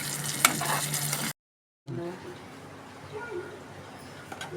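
Tamarind rice mixture frying and being stirred in a pan, a soft sizzle with scraping stir strokes, broken by a brief silent gap before the quieter frying resumes.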